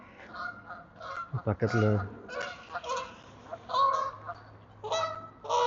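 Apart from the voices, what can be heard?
ducks honking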